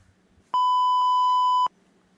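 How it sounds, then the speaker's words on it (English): Soundboard beep: a single loud, steady electronic tone lasting about a second, standing alone against near silence. "if I had a soundboard, I'd press it right now and just beep it"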